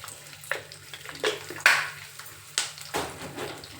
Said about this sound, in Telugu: సాయి మినపప్పు అవి కొంచెం వేగనివ్వాలి